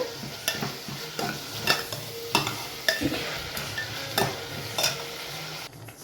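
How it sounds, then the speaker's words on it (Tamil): Onions and tomatoes frying in a pan for chicken gravy give a continuous close sizzle, broken by regular scraping stirs roughly every half second to second. "ஸோ இப்போ பார்த்திங்கன்னா வெங்காயம் தக்காளி நல்லா வதங்கிட்டுருக்கு. நல்லா ஃப்ரை ஆகட்டும்."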